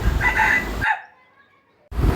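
A green jungle fowl rooster crows once, loud and close, a long bright call that stops abruptly and is followed by about a second of near-silence before other sound resumes.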